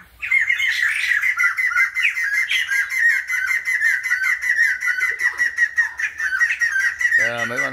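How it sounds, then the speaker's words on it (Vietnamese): Caged Japanese sparrows (society finches) chatter in an aviary, a dense, continuous stream of close, loud chirps and squawks with no pause, and a low voice cuts in briefly at the end. "Mấy con sẻ nhật,"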